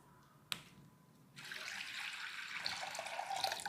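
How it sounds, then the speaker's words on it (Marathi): Green chillies with stems removed are rinsed in water, a steady running-water splash filling most of the clip after a brief sharp click near the start, with no talking. "आता आपण पाण्यात स्वच्छ धुवून घेऊयात"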